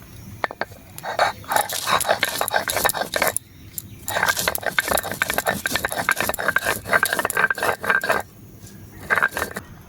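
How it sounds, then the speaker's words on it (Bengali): Dried red chilli ground by hand, giving busy, irregular scraping and clattering strokes with brief pauses, close and fairly loud. "আগে শুকনো লঙ্কাটা বেটে নিই।"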